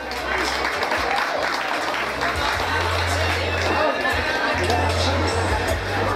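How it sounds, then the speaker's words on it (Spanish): A festival crowd claps steadily at an outdoor town celebration, applause spread across the whole span at moderate loudness, mixed with chatter and a low hum. "pido también un fuerte aplauso."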